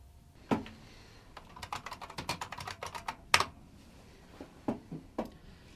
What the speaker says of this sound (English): She's just typing on a computer.